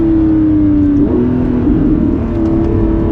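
A Lamborghini Revuelto's 6.5-liter V12 engine drones loud and close at steady revs with a slight pitch dip and rise, a continuous heavy engine note with no talking.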